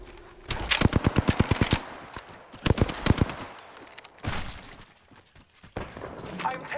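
Rapid automatic gunfire in the video game Apex Legends rattles in several loud bursts of quick, evenly spaced shots, separated by short pauses, with voices and in-game chatter around them.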